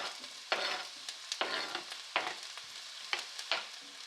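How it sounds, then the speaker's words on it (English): Onions, carrots and garlic sautéing in olive oil in a skillet over medium heat, with soft frying hiss broken by several distinct scraping stir strokes at irregular intervals, fairly quiet and close with no voices. "we're just going to saute our vegetables for about 4 to 5 minutes"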